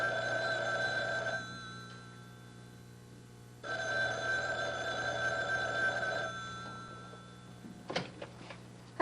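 A landline telephone in a home rings twice, each ring a long, steady electronic trill separated by a short pause, followed by a soft clatter as the handset is picked up.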